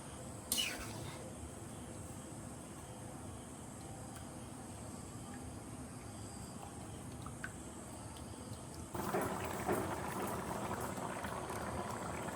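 Tarka curry coming to a boil in a pot makes a faint, steady bubbling simmer, with a brief clatter near the start and a slightly louder, busier stretch of bubbling toward the end.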